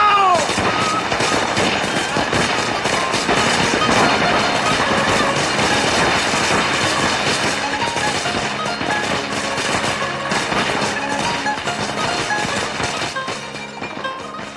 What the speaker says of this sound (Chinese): 放鞭炮